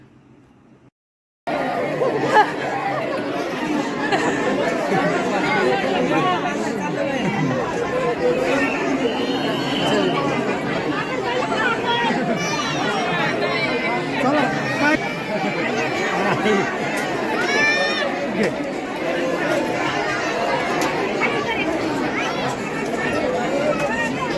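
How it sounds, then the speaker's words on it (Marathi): Crowd of devotees chattering at the Saptashrungi temple, a dense, continuous babble of many voices nearby with occasional laughter, starting after a short quiet moment. "भाविकांची खूप गर्दी होती."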